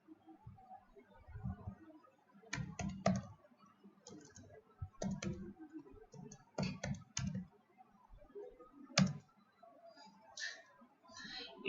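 Typing on a computer keyboard during a Python programming session, faint scattered key clicks in short irregular bursts with quiet pauses, close by and without talk.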